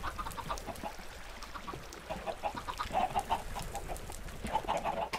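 Minecraft chickens clucking around a small chicken house, a run of close, bright clucks and squawks in short bursts over a steady game-world background, with no talk.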